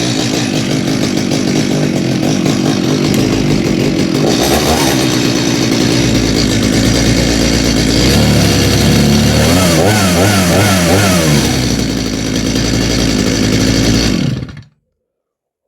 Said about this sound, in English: This machine, 2 pulls and you turn the choke off, otherwise it's flooded.